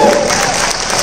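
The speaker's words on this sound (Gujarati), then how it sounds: "ખૂબ તાળીઓની વધાવી લેશો ધ્વનિતને" An audience at a wedding-related community event in Ahmedabad applauds steadily and loudly throughout, a dense wash of clapping with crowd murmur and no gaps.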